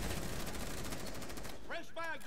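Rapid automatic gunfire in the video game Rainbow Six, a fast run of sharp shots for about a second and a half that stops, then a voice speaks briefly.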